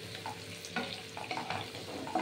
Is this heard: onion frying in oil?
yes